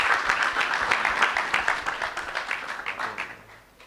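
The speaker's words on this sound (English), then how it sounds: "Another round of applause for someone who supported, again, this conference very much." Audience applause at the AMLD Africa 2026 conference main stage at WITS University in Johannesburg, moderately loud clapping that gradually thins and fades toward the end.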